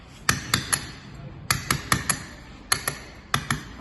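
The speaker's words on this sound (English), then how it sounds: "I'm using the 2-inch bolster here, but I'll then show you using a plugging chisel" A 2-inch bolster chisel struck with a hammer to cut out a brick wall's mortar joint: sharp ringing metallic blows in quick bursts of two or three, close and clear, with short pauses between groups.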